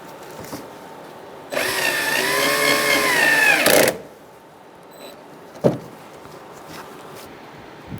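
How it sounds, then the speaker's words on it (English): A power drill drives screws fastening the front bumper cover to the body of a 2010-2013 Kia Soul, with a loud two-second whine up close, then a short click and quiet shop noise. "now we're going to put our screws to connect our bumper to the body"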